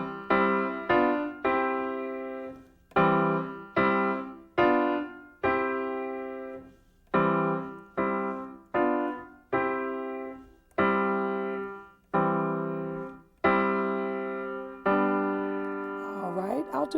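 Gospel piano plays a repeated three-note chord pattern, with a rhythmic run of struck chords that ring and decay, some short and some held, loud and close, with a faint voice near the end.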